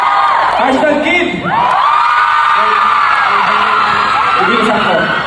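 A live audience at a Hashtags stage show shouts and cheers in unison, a loud, sustained roar of whoops and yells that fills the whole stretch, with only a brief dip partway through.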